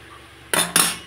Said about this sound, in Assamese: এতিয়া ঢাকনি দি দিম।